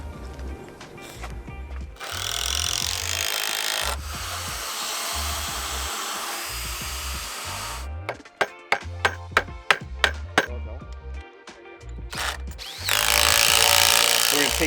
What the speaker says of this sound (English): We're gonna lag this guy into there.